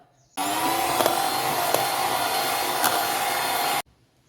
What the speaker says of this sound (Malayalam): ഇനി നമുക്കിതൊന്ന് ജസ്റ്റ് ഒന്ന് ബീറ്റ് ചെയ്തെടുക്കാം